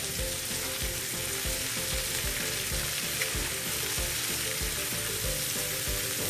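Garlic shrimp fry in a hot pan over high flame, a loud, continuous sizzle with rhythmic scraping and clatter as the pan is stirred, no voices over it.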